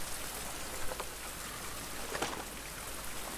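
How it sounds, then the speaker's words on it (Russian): Rain in the video game Survival: Fountain of Youth, a quiet steady hiss of falling drops with a few faint splashes, continuous and without speech. "Ой, дождь не перестал. Ничего себе."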